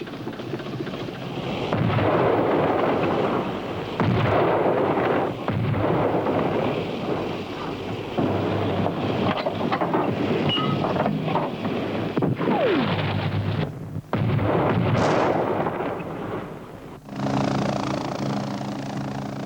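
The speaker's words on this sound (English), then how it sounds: "When all was ready, including the Abbott self-propelled guns, the order would come to fire." Abbot self-propelled guns firing artillery in a Cold War exercise, heavy continuous booming and rumbling with wind buffeting the microphone, loud and sustained with a few brief dips.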